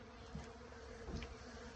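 Bees swarm inside a shed full of old beeswax being rendered and melted, producing a dense, continuous buzzing drone that stays fairly steady throughout, close and enveloping.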